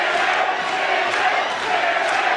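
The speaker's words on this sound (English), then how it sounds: "Crowd start chanting for Timmy Bell here" A boxing crowd chants for fighter Tim Bell during his 2010 bout with Joel Casey in Brunswick, Victoria: a dense, steady roar of many voices filling the hall without pause.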